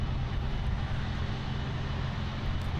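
Aircraft engine noise at Miami International Airport, a steady low rumbling drone that holds evenly throughout at a moderate distance, with no talk over it.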